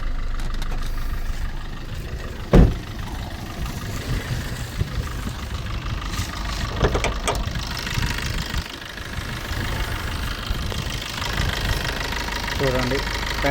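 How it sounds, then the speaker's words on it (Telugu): Engine of a 2016–17 Maruti Suzuki Swift Dzire with about 189,000 km running steadily at idle, a continuous low rumble with one sharp knock early on, while someone talks over it throughout. "ఇంజన్ కూడా స్మూత్గా ఆడదాను"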